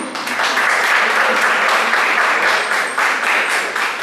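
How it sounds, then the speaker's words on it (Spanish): Warm, sustained applause from a conference audience, dense steady clapping filling the room at close range and holding evenly throughout without talk. "para quien les pido un caluroso aplauso"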